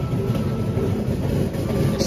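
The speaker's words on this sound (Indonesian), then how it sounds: "Oh, kita berpapasan kereta Gumarang dari Pasar Senen ke Surabaya Pasar Turi." An Indonesian Gumarang passenger train passing on the line near Cirebon, heard from inside a moving train as a dense, steady low rumble and rattle without pause.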